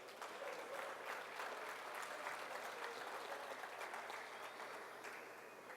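Sustained applause from an audience, steady clapping throughout that fades slightly toward the end.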